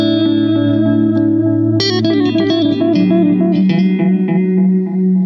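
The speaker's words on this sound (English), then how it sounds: "Now you've got a spring reverb as well." A guitar played through a spring reverb effect rings out in sustained chords with a lush, wet tail, loud and close, with a new strummed chord entering partway through.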